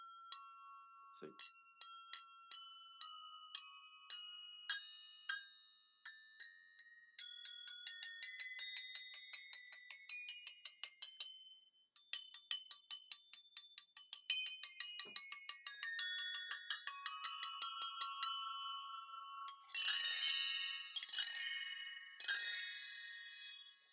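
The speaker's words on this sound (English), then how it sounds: "So I have a smaller bell tree over there, a handheld one, but this one sounds the best." A full-size bell tree shimmers through repeated cascading glissandos of bright, ringing metallic tones, each sweep decaying before the next, ending in several quick loud runs.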